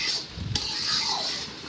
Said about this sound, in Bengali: ওই মিক্স করা মশলাটা এর মধ্যে অ্যাড করে দিলাম। এক দু মিনিট এটাকে ভালো করে কষিয়ে নিতে হবে।